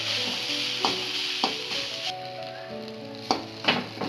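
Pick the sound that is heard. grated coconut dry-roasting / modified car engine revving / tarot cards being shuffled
grated coconut dry-roasting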